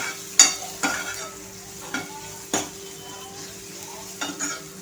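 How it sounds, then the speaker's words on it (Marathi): Manchurian mixture with black pepper and ajinomoto frying and being stirred in a pan, a soft steady sizzle broken by several sharp scraping strokes of a spoon against the pan, no talking. "आणि आता हे छान असं फ्राय करून घ्यायचं आहे."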